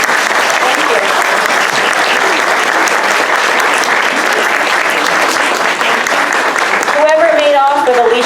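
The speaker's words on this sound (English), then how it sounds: "But let's give them a big round of applause." An audience at a fiber art panel discussion applauds the panelists with sustained, loud clapping, and a voice speaks over it near the end.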